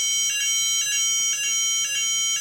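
A Saft URA 1998 fire alarm panel in alarm state sounds a loud, steady electronic tone with a pulsing beep repeating about every half second, close and continuous with no talking.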